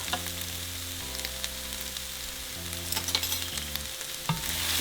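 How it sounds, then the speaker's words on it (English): Potatoes and carrots with a little enchilada sauce fry in oil, giving a steady close sizzle with a few soft stirring knocks, while a low steady hum runs underneath throughout. "we're just going to fry them for about 2 to 3 minutes"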